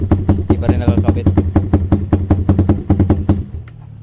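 Cold start of a motorcycle engine fitted with dual carburetors, a loud rhythmic chugging idle with regular firing pulses that runs unevenly for several seconds before abruptly dying off.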